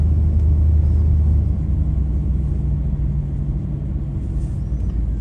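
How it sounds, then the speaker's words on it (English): Cars pass on a neighborhood street in Gary, Indiana, a steady loud low rumble of engines and tires heard from inside a moving vehicle, with no voices. "You see the cars going by,"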